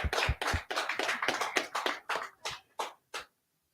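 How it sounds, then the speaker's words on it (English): Hands clap in a small gathering at a Feast of Tabernacles closing in Durham, roughly a dozen sharp claps in an uneven rhythm that thins out and stops, fairly close, with no talking over it. "Clap it up"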